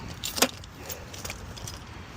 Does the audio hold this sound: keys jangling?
yes